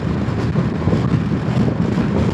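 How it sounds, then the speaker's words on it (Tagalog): Strong wind buffeting a microphone outdoors, a continuous loud rumbling roar with gusty fluctuations throughout and no voices. "Lakas ng hangin, hinahangin ako."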